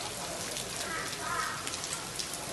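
Steady rain falling outdoors in Sassari, a dense continuous patter hissing evenly throughout, with a faint voice in the background.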